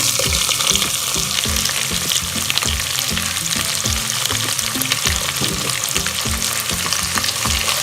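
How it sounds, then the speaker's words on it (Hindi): Onions fry over medium heat in a pan for achari bhindi, a loud, continuous sizzle close up, with repeated scrapes and clinks of stirring running through it. "प्याज को हमने ट्रांसपेरेंट होने तक फ्राई करना है"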